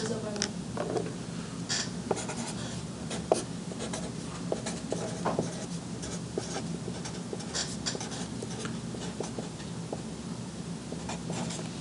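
Pen or pencil scratching across paper while working a math problem, a steady close-up scribbling with short strokes and taps, continuous and fairly quiet with faint room noise beneath.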